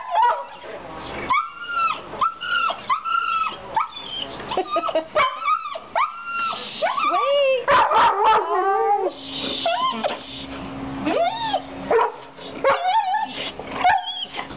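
A small dog yips, whimpers and barks repeatedly at close range, high-pitched and insistent, while people talk over it.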